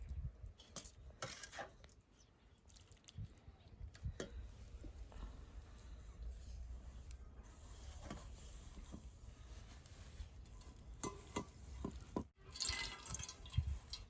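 Grated coconut milk is squeezed through a white cloth towel. Liquid drips and trickles close by, with clinks from metal pots and utensils and handling noise in between.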